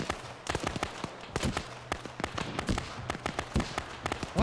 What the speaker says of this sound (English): What's all those explosions to the east?